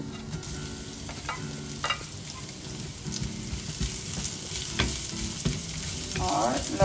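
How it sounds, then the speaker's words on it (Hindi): Garlic sizzling in hot oil with cumin seeds in a pan, a soft continuous frying crackle with scattered pops and occasional stirring clatter, fairly quiet and close. "और लहसुन को पकने देंगे।"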